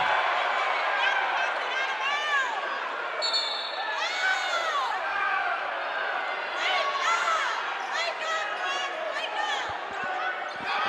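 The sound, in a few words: basketball crowd reacting unhappily to a referee's call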